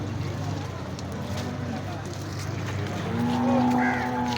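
Buffalo low at a busy cattle market in Kharian, a deep drawn-out moo rising near the end over crowd chatter and people talking nearby.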